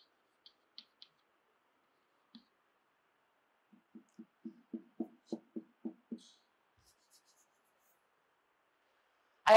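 Numbers are written by hand during a lecture in a quiet room: a few light taps, then a quick run of about a dozen rhythmic strokes, faint and close.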